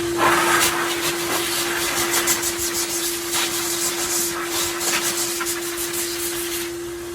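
DeWalt 10 gallon shop vac running from its blower end, a steady loud motor whine with a sustained tone and rushing air, fluttering slightly as the airflow is moved about.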